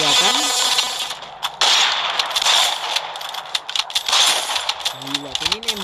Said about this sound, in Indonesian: ini nembaknya sembarangan atau headshot nih kayaknya Ji